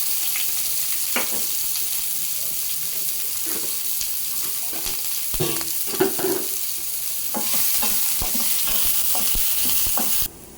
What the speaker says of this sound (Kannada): ಬೆಳ್ಳುಳ್ಳಿ ಹಸಿಮೆಣಸಿನ್ಕಾಯಿ ಕರಿಬೇವು ನಂತರ ಈರುಳ್ಳಿ